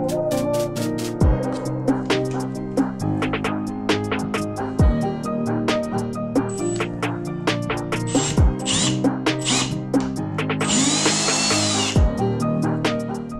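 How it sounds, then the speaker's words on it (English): Drill with a 4mm bit enlarging holes in a Milwaukee Packout plastic case, short bursts of whining motor spin-up and spin-down repeated many times, with clicks and scraping of bit against plastic between runs. "You just want to drill them out."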